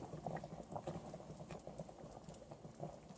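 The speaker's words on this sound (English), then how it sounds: "because I want them to simmer" Pork cacciatore juices simmering in a pan give a faint, continuous bubbling and soft patter, close by and quiet.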